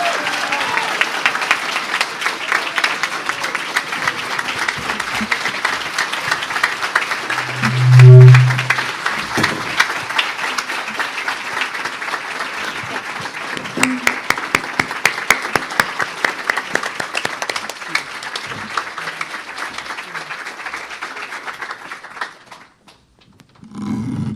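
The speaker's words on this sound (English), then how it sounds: "let's give our panelists a very loud round of applause" An audience at a panel discussion gives the panelists a long, loud round of applause, dense clapping that holds steady with a few whoops before fading out near the end.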